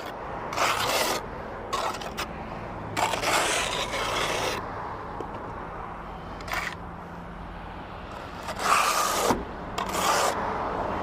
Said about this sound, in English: Just turn the trowel over, furnish the back of the trowel or the tile.